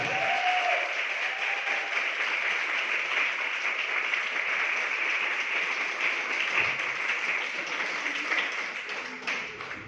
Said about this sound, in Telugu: చప్పట్లతో ఆహ్వానించండి